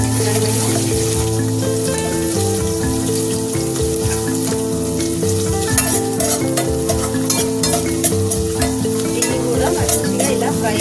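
Sliced onions and green chillies fry in a pan for a minced mutton curry, a loud continuous sizzle with stirring scrapes, heard over steady background music.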